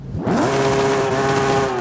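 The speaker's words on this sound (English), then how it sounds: "Sport exhaust, let's hear what it sounds like." A Toyota Supra MK4 engine in Forza Horizon 5 with a sport exhaust fires up and revs sharply, then holds at a steady high drone with a growling exhaust, loud and near.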